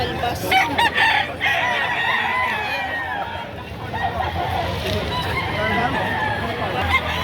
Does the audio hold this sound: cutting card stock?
no